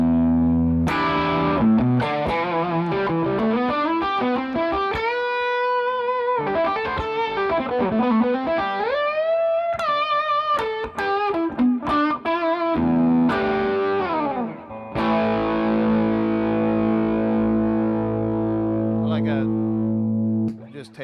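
Electric guitar played through a Magnatone amp and a distortion pedal, sounding as continuous, loud, sustained distorted lead lines and chords, with long notes ringing and tapering off near the end.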